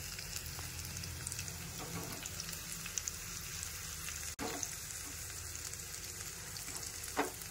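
Dried red chilli sizzling in hot tempering oil for a spiced dal, a steady crackling fry hiss that runs unbroken throughout, with one brief sharp click near the middle.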